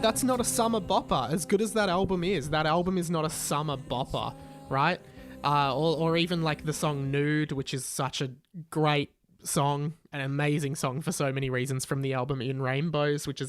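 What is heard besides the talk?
No everyday noise stands out behind the speech.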